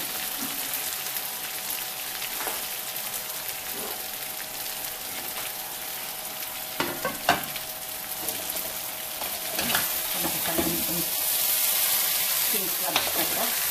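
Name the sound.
stir-frying king crab with oyster sauce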